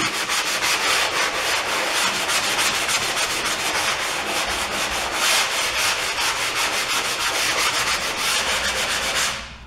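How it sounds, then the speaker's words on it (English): Close, steady sanding of a drywall surface, rapid back-and-forth rubbing strokes that continue without pause, then stop abruptly at the end. "give this a light sanding"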